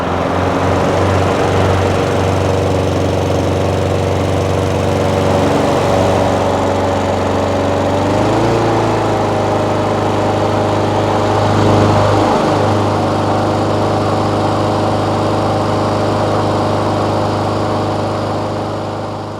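A Troy-bilt TB240 lawnmower with a Honda GCV engine runs steadily after a carburetor service, a close, loud, continuous buzzing drone with a couple of brief dips and rises in pitch as the revs shift.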